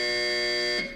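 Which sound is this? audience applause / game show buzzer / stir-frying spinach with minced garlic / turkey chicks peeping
game show buzzer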